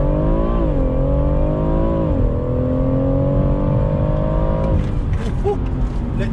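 BMW M140i fitted with a JB+ tuning box launching hard under launch control, its loud engine note climbing steadily through the revs with a brief dip at a gear change, then easing off near the end.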